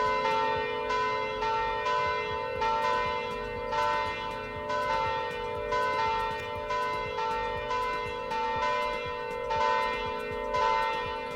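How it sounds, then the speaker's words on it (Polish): Church bells peal over and over in the Roblox game Polish Car Driving, a dense, loud series of bright metallic strikes with long ringing tones that keep overlapping, heard alone without talk. "Ale nawalają te dzwony, nie?"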